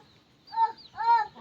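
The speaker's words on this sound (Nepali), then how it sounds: "आफू पनि खाँदै कुखुरालाई पनि दिँदै गर्दैछ" Chickens cluck as they are fed flattened rice, giving two short, close bursts of calls with a softer cluck at the end and no talk.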